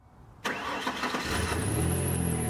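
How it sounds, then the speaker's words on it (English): A Toyota Yaris XP90 with the 2SZ-FE engine cranks and starts after a short quiet moment, then idles. A thin, high, continuous squeal from the worn serpentine drive belt rises over the engine noise. "You hear this squeaking noise?"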